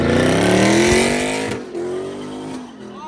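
A Dodge Charger RT drifts with its tires burning, making a loud, close engine roar with rising revs and tire squeal. The sound eases off after about a second and a half, then the engine note climbs again.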